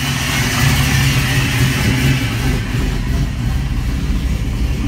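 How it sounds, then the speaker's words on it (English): A cold Foxbody Mustang engine with Holley EFI idles smoothly with no foot on the gas, giving a loud, close, steady low rumble that holds an even pitch throughout. "Cold engine, no foot on the gas. Nice smooth idle."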